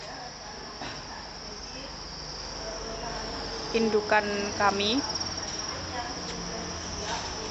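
Crickets at a cricket-egg breeding farm chirp in a dense, steady high-pitched drone throughout, while a person speaks briefly near the middle.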